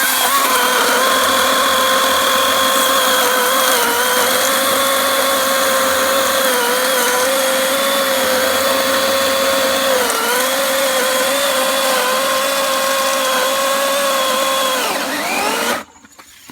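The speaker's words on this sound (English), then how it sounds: "I'm having to saw around this thing because the log is several inches thicker than this 18-inch chain." An 80V Kobalt electric chainsaw with an 18-inch chain cutting through a large hickory log, a loud steady high-pitched motor whine held for about fifteen seconds, dipping slightly under load before abruptly stopping.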